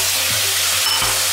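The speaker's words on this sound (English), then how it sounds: "I'm gonna put the meat in." Pork belly hitting hot caramel sauce gives a steady, loud broadband sizzle that holds through the whole moment, with a low hum underneath and a brief bump near the end.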